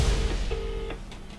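Two short telephone dialing tones sound in sequence on a phone line, fairly faint over low background hum, with no talking.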